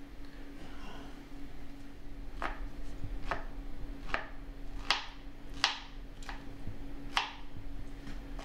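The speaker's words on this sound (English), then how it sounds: "and then I'm going to dice the peaches" A knife chops peaches by hand on a cutting board, giving a series of sharp, separate knocks that come roughly every half to one second against a low steady hum. No one speaks.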